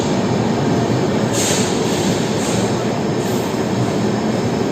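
A train rolls past nearby with a loud, continuous rumble of wheels on rails, and brief metallic squeals rise over it.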